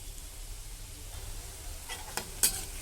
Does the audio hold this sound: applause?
no